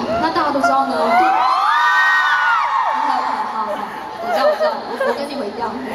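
Audience at a live BL-themed concert screaming, whooping and cheering loudly and continuously, with overlapping high shrieks swelling mid-way and a second burst near the end.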